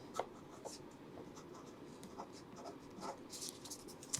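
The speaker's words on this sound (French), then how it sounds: "mettre une feuille blanche et pouvoir écrire sous la caméra" A pen scratches across paper close up in short quiet strokes, a soft scribbling rhythm with brief pauses between marks.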